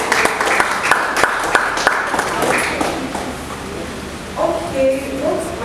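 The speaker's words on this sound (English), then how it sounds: "a round of applause for" A round of applause at a conference, with crisp clapping that fades over a few seconds before a voice begins speaking.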